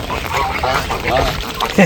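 Geese grazing on grass by a river on a rainy day honk and cackle in short bursts over a busy background, several calls scattered across the moment, with voices mixed in.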